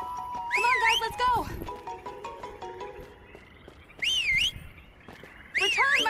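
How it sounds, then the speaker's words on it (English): A character in the Hotel Transylvania 3 video game whistles while walking: bright, warbling whistled phrases come in three bursts between stretches of game music and effects. "I can whistle while I'm walking."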